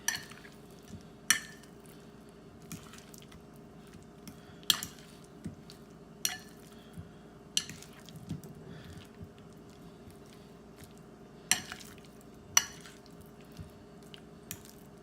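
Batter with extra flour is mixed with a utensil in a bowl, quiet wet stirring broken by sharp, regular clinks of metal on the bowl roughly every second or two.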